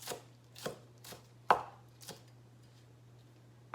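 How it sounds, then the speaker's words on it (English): Knife strikes on a cutting board chopping green onion, six or so irregular chops with gaps between, one sharper than the rest, over a faint low hum. "Got my green onion that I'm chopping up."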